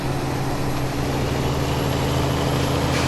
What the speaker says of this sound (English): that's a John Deere you're hearing. Has really good sounds.